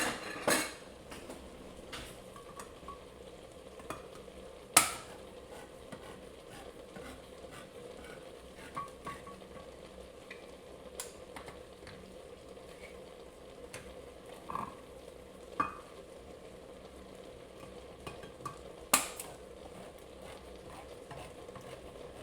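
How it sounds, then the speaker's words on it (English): Chili cooks in a pot with a faint, constant simmer, broken now and then by a spoon scraping and clinking against the pot in sharp, scattered knocks. "It's cooking up nice."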